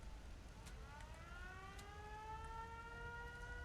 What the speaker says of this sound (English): Somebody's siren is going off.